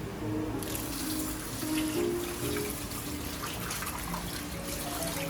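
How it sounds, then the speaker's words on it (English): Rice being washed in a sink under a running tap, with water splashing and trickling steadily and close by, with no talking, for about five seconds. "So let's first wash the rice."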